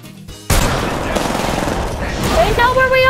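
Gunfire in the battle royale game Apex Legends on the Olympus map, a dense burst of rapid shots breaking out suddenly and sustained loud, with game tones chiming near the end and voices talking over it.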